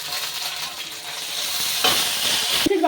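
Ground spice paste hits oil with reddish-fried onions, a close, steady sizzle that swells louder as the paste goes in, ending with a brief clink of a utensil.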